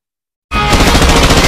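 Gunfire from a Bangla action film teaser bursts in abruptly after a moment of silence, a loud, dense rapid volley of shots filling the rest of the clip with no voices.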